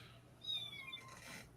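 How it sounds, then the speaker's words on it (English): A pet cat meows faintly in the background of a fantasy football livestream, a single drawn-out call over low room hum. "What, is that a cat?"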